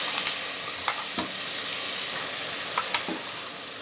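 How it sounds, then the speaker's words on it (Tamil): Ginger garlic paste fries with softened onions in a loud, close, continuous sizzle, punctuated by several sharp spoon scrapes and taps against the pan. "இஞ்சி பூண்டு பேஸ்ட்டு பச்சை வாசனை போகிற வரைக்கும் வதக்கிக்கலாம்."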